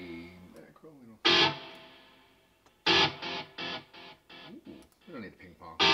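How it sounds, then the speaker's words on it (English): Electric guitar riffs played through heavy distortion with a delay and reverb effect, loud strummed bursts and choppy chords separated by ringing tails and brief gaps. "more distortion and some kind of a delay reverb."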